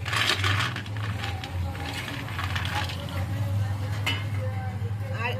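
Hard fried Madan Katkati sweets clatter and rattle together in close, dense jostling clicks, with a low background hum and brief talk mixed in.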